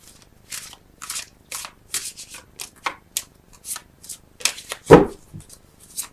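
Tarot cards are shuffled and drawn by hand in a series of quick papery riffles and slaps, about a dozen short bursts close up, with one sharper thump near the end and no talking.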